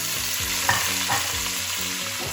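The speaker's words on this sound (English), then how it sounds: "I am going to add my beef ribs back into the pan and get all of that juice into the pan" Beef short ribs sizzle and fry steadily in a hot pan while being stirred, with a couple of brief scraping clatters and a continuous close, moderately loud crackle.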